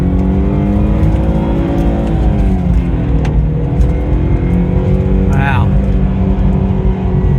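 Manual Jaguar X-Type with all-wheel drive accelerating from inside the cabin, loud raspy exhaust rising in pitch through a gear with engine harmonics, and a voice briefly exclaiming.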